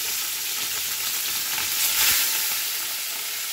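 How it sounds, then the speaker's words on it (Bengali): Rohu fish pieces, including a head and tail, fry in hot oil, giving a loud, continuous crackling sizzle close by that swells briefly midway, with no talking. "দেখো, সব মাছগুলো বসিয়ে দিলাম ভাজা।"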